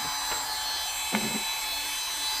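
A Parkside PMW 32 A1 battery rotary tool runs with a thin, steady high-pitched motor whine, fairly quiet, with a couple of light knocks along the way.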